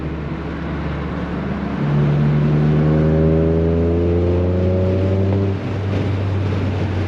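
A Toyota GR Corolla is pushed hard along a winding mountain road, its engine loud and close as it climbs through the revs, holds a high, strained note, then drops back after a shift.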